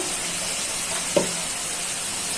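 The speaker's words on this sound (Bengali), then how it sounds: "করলাটা তো মাছ দিয়ে ভাজি করতেছি" Sliced bitter gourd fries in oil with giant prawn legs, ginger paste, green chillies and spices, giving an even, continuous sizzle broken by one brief clink of a utensil.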